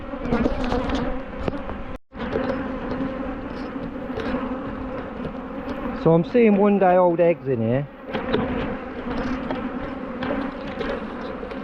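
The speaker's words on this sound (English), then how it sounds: "They're just angry bees, I reckon." Angry honeybees swarm around an open hive, a dense continuous buzz close by, while someone talks over it.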